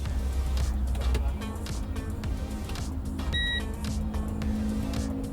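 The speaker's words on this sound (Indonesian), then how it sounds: "Dia hanya ditandai dengan suara beep dan ada tulisan ready di bagian speedonya." A Citroen Ami Buggy electric car gives a short, clear electronic beep at startup, sounding once partway through over a low, steady background rumble.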